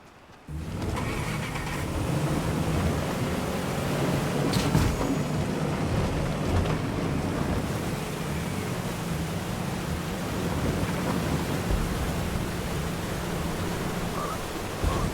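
A boat rushes across water in Fortnite. A steady engine drone and hiss of spray hold for the whole stretch, with no talking.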